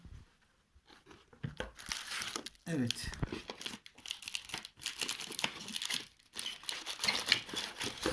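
Bubble-wrap protective bag for an Oppo Realme 5i smartphone crinkles and rustles in repeated close bursts during an unboxing, with someone talking briefly over it.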